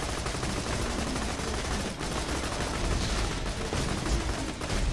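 Rapid automatic gunfire in Borderlands 2, a dense, continuous stream of shots with a brief pause near the middle, loud and sustained throughout.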